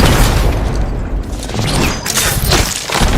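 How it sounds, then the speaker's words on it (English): Grenade blast in a video game, a loud booming explosion with rolling low rumble and crackling debris that swells and trails off over a few seconds. "grenade."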